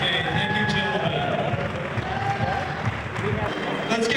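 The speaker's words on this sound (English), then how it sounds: "Let's give it a nice round of applause." Audience applause at a contest event, steady dense clapping with crowd noise filling the whole stretch, loud and continuous.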